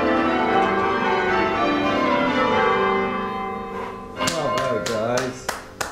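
Heavily dampened church bells rung by the University Guild of Ringers in Cambridge sound as a muffled, sustained ringing blend, followed by a few sharp clanks near the end, with no voices.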